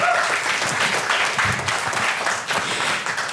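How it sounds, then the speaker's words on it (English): An audience at a Kangen Water sales training meeting breaks into loud, dense applause, sustained clapping close by that holds steady for several seconds. "Say amen and give some applause for you."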